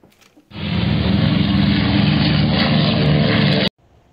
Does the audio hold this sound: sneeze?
no